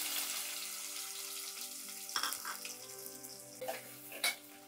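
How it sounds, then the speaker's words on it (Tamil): Chopped shallots, added with fenugreek seeds, sizzle in hot oil in a pan for a vanjaram fish curry. A steady frying hiss runs throughout, broken by a few louder crackles and stirring clatters near the end. "கட் பண்ண சின்ன வெங்காயத்தை போட்டுக்கோங்க."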